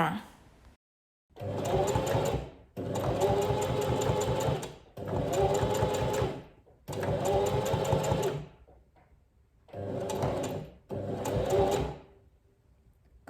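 A sewing machine stitching a buttonhole runs in six short bursts of rapid stitching, separated by brief pauses. It is loud and close.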